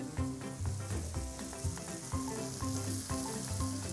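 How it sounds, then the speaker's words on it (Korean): Constant crackling sizzle of sugar frying in oil, dense popping close by, over a low background hum or music. "이게 나야지 정상인 거예요. 소리가 지글지글."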